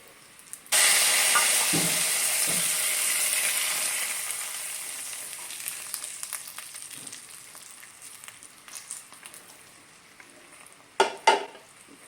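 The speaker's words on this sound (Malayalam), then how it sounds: "അങ്ങനെ കടുകും മുളകും വേപ്പിലയും കൂടി ഇവിടെ താളിച്ച് കഴിഞ്ഞിട്ടുണ്ട് നമുക്കിനി ഇത് കറിയിലേക്ക് ഒഴിച്ചു കൊടുക്കാം" Hot mustard seed, chili and curry leaf tempering hits the curry with a sudden loud sizzling hiss that slowly fades over several seconds, followed by a few clinks of the pan near the end.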